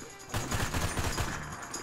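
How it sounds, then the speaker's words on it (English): Gunfire in Grand Theft Auto V story mode, a burst of rapid automatic shots, loud and dense, mixed with a voice talking. "Who's shooting me?"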